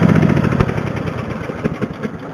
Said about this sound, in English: You're not supposed to be riding a lawnmower on the highway.